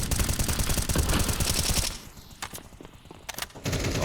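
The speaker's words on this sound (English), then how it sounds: "Like 3 different pistols are trying to shoot him" Rapid pistol fire in Counter-Strike on the Mirage map, with a dense burst of overlapping shots for about two seconds, then a few sharp separate shots after a short lull, loud and close, with no talk.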